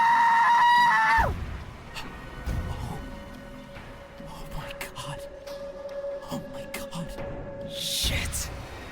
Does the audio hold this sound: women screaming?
yes